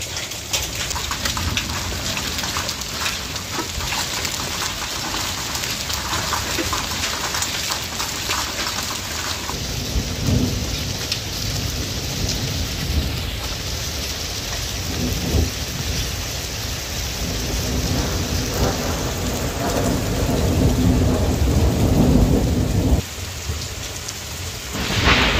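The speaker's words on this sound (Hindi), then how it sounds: "ये नॉर्मल बारिश नहीं है, ये है ओलों की बारिश।" Heavy rain drums hard and steadily throughout, with low rumbles of thunder rolling underneath; the hail itself isn't distinguishable within the dense downpour.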